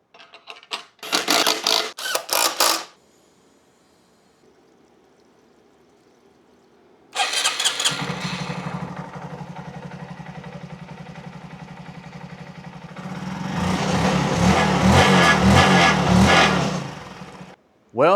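A motorcycle engine, freshly repaired, cranks in short bursts and then fires up, settling into a steady idle close by before revving up louder for several seconds.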